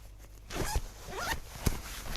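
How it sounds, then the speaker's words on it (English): Zipper on a watertight pocket of a Cyclone Pro waterproof jacket being pulled, two or three quick close rasping zips with a small snag at the end, alone and fairly quiet. "the zips are watertight"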